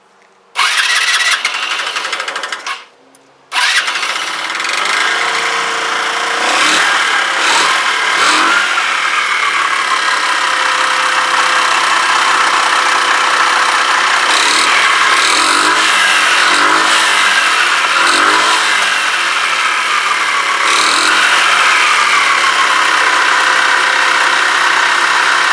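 A Kymco Agility 125 scooter engine, just worked on for carburettor and valve trouble, cranks and fires up after a brief stutter, then idles and revs steadily with a rough mechanical clatter, close and loud throughout.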